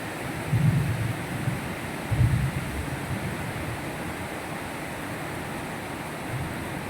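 Steady wind roaring outdoors with broad rushing noise, a couple of stronger low gusts buffeting the microphone early on.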